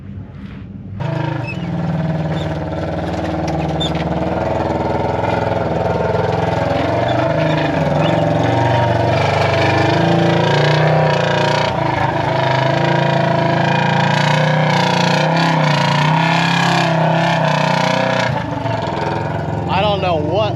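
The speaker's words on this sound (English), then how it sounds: "This car is so loud, but the footy's good." Off-road race car engine revving loudly during prerunning on the King of the Hammers desert trails, a steady roaring drone with rising and falling revs throughout, close and dominant.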